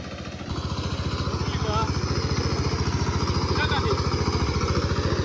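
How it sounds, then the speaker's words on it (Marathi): Tractor engine running close by with a loud, steady chugging pulse throughout, a brief click at the start, and faint speech underneath. "ट्रॅक्टरचा आवाज भरपूर येता."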